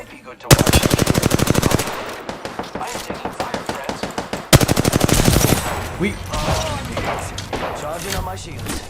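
Rapid automatic gunfire from a laser weapon in the video game Apex Legends, two loud sustained bursts of fast regular shots, the second followed by scattered impacts, with someone talking over the fire.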